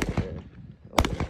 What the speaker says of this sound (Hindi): वाह फायरिंग का सिलसिला अभी तक जारी है।